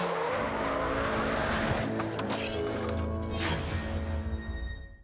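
Police car tires screeching through a U-turn during an extreme driving exercise, a loud sustained squeal with engine roar that fades out at the end.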